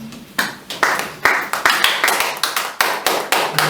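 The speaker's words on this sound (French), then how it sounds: "on peut acclamer pour les seigneurs." A church congregation at a service claps together in applause for the Lord, with a steady run of sharp, loud handclaps in quick rhythm. The clapping is close and continuous and has no talking over it.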